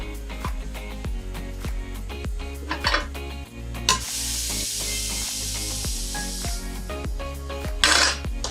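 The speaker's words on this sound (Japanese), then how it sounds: "バターがねちょっとプチプチ" Butter in a hot pan under crepe batter being cooked, a steady close sizzle and crackle with stirring and scraping clinks, brief louder hissing bursts partway through.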